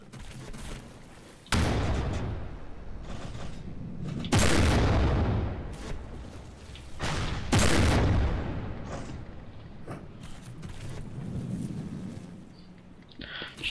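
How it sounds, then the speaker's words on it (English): Naval guns pound the bow of a ship modeled on the Edmund Fitzgerald in From the Depths, three heavy booming salvos several seconds apart, each with a long rumbling decay, over quieter low mechanical background. "Now I'm going to just continually fire at the bow now with the guns"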